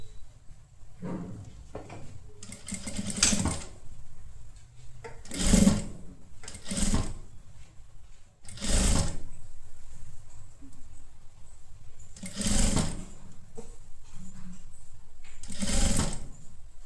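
A sewing machine stitches a blouse sleeve in short, repeated bursts of rapid mechanical whirring, separated by quiet pauses and light handling noises.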